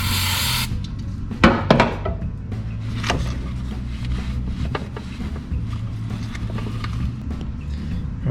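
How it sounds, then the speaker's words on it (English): A short, loud hiss of parts cleaner sprayed onto an engine surface during a Works turbo kit install. It is followed by a few sharp clinks of tools and parts over a steady low workshop hum. "Just going to use a little parts cleaner and clean that surface"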